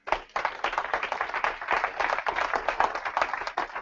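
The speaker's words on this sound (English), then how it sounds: "Don't applaud for them." Audience members at a business meeting burst into applause for two brand partners in the room: a dense patter of hands clapping at close range, starting abruptly and continuing strongly with small surges throughout.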